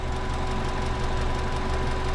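Steady, smooth idle of a 2000 Subaru Impreza engine, close and continuous, a low even rumble with a thin tonal hum riding on top and no change in level or rhythm.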